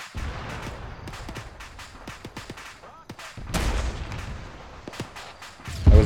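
High-impact round striking a BTR armored vehicle in a military video game, with scattered gunshot cracks before a heavier booming impact midway and another blast near the end, fairly loud and with no talk.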